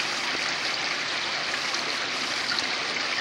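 A flowing stream where sea trout struggle to swim upstream rushes steadily and evenly, a close continuous wash of water with no voices.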